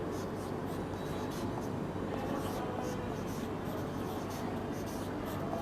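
A pen scratches steadily across paper as Bengali words are written by hand during a lesson, a continuous close rubbing texture with soft strokes and a faint background hum.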